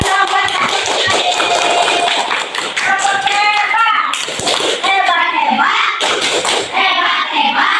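Children clap their hands in a classroom, a dense burst of many overlapping claps that continues unevenly across several seconds, loud and close, with children's voices talking and calling beneath it.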